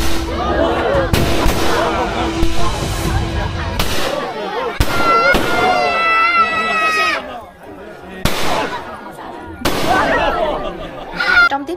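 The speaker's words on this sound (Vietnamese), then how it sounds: "Trong tiết mục chào đón khách ngay tại cổng làng thì sẽ có tiết mục bắn súng" Guns fired during a Miao village gate welcome ceremony for visitors in China, a series of loud sharp blasts scattered across the scene amid crowd noise, voices and what sounds like horn music.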